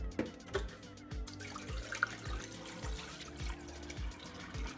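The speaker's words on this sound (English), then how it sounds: "the first thing we'll do is dump out this brine" Brine dumped out of a container of raccoon meat, a trickling, splashing pour with repeated low thuds and drips, moderately close and without talk.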